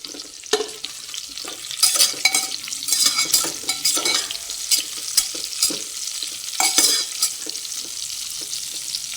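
Eggplant fries in hot oil in which garlic has just been browned, giving a steady close sizzle broken by uneven scraping and clinking as a spoon stirs the pan, with no talking.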